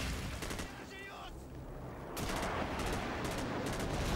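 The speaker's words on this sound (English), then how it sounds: "Ooh, that was an airstrike." Explosions from an airstrike in online Call of Duty 4: Modern Warfare multiplayer, a dense burst of blasts and gunfire that swells loud after a brief lull, with voice chat mixed in.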